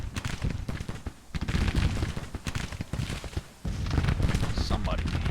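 Rifles and cannon crackle in rapid, irregular volleys during a Civil War battle game, full of sharp repeated reports that swell into dense bursts. A voice talks over the firing.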